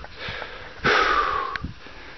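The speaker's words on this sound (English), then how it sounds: "I'm currently just sitting, kind of catching my breath" A hiker sits catching their breath after climbing about 30 feet out of a Lake Powell slot canyon, with a sharp sniff and a few ragged, wheezy breaths close to the mic, one strong exhale standing out midway.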